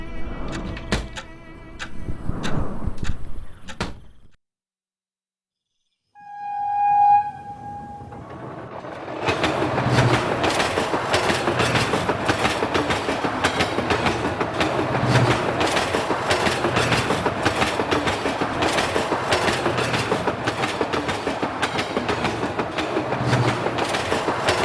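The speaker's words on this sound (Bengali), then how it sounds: "পরদিন অসীমবাবু শিয়ালদা থেকে ট্রেন ধরে রাত 9টা নাগাদ পৌঁছলেন বীরনগর স্টেশনে।" A train runs in a steady clickety-clack rhythm with rumbling wheels, loud and continuous after a brief horn-like tone and short pause, used as a sound effect in a Bengali horror adventure audio story.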